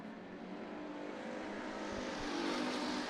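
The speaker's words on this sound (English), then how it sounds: "Now Ethan Johnson all over his backside down the front straightaway into turns 1 and 2." Race cars roar around Bakersfield Speedway during heat racing at the Budweiser Nationals, a loud continuous engine drone that swells steadily as the pack passes.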